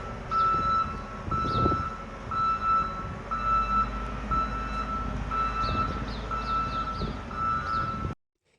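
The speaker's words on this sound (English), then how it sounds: "this front-end loader, every time it hits reverse, which is every few seconds, blast that alarm at concert level decibels" Front-end loader reversing alarm sounds near a residential neighborhood: loud, steady tonal beeps repeat in an even rhythm under the rumble of the working loader, with a few higher chirps late in the stretch before it cuts off.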